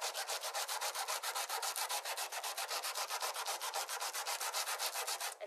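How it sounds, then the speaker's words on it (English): Sandpaper rubbing over ColorCore cardstock in steady, rapid back-and-forth strokes, a close, dry scratchy rasp repeating evenly with no voices. "And so I took the lighter color and actually just sanded over the whole piece."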